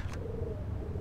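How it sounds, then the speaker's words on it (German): Pigeons coo softly in an echoing stairwell in the video game Max Payne, a low repeated murmur sitting over steady ambient hum, with a brief hiss near the start. "Hier hört man sogar die Tauben, die hier drin wohnen."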